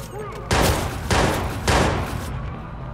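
Video game gunfire erupts in three loud, close bursts about half a second apart, each trailing off before the next volley.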